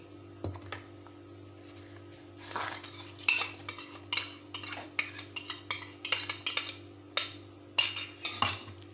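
Maida flour and powdered sugar mixed by hand in a bowl for cake batter, close bursts of scraping and light clinking strokes in quick runs with short pauses between.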